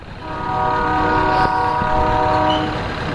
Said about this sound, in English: I knew there was a train here.